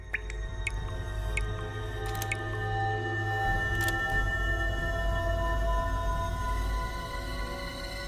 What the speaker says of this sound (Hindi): ये पानी टपकने की आवाज है।